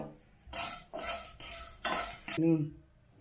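Fenugreek seeds being dry-roasted with mustard seeds in a pan for a Karnataka root pickle, heard as four loud bursts of scraping and rattling as a spoon stirs the seeds, ending in a metallic clink.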